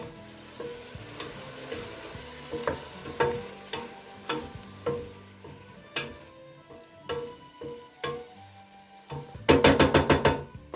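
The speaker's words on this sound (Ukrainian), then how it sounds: "Так, все перемішую." Marinated pork loin with wine is stirred in a pan, a steady sizzle and frying hiss under repeated spoon scrapes and clinks, ending in a quick burst of rapid metallic taps.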